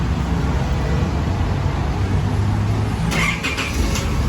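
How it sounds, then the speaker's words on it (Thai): An Isuzu Adventure engine, started by remote, turns over and catches near the end, after a steady low idle hum, with a brief burst of mechanical noise. "เครื่องยนต์ก็จะสตาร์ทติดนะครับ"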